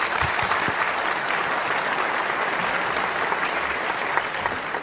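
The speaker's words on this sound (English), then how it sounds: "Let's thank them once again with our warmest applause." A hall audience at a gathering on vegan living gives sustained warm applause, a dense, even wash of many hands clapping that holds steady throughout, no voices.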